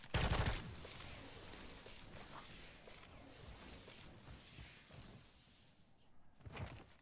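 Gunfire from a blueprint-variant gun in the shooter Call of Duty: Modern Warfare III, a loud burst at the start, then rapid quieter shots and game clatter, ending with another sharp burst.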